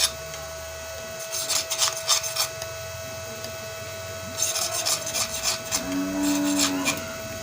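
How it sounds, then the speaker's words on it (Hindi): A razor blade scrapes enamel insulation off the main lead wires of a dryer machine spinner motor winding, producing bursts of close, dry rasping strokes separated by pauses, with a steady background hum. "ये इनका हम अब इंसुलेशन उतार रहे हैं मेन लीडों का"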